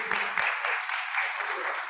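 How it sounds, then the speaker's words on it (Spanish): Clapping from a church congregation at a Sunday Mass, celebrating couples, a brief steady burst of many hands at moderate loudness filling the whole moment. "Un aplauso para ustedes"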